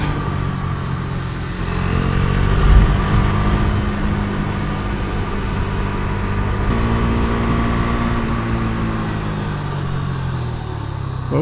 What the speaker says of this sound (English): Weight on the pegs to deal with the bumps and keeps the bike tracking smooth.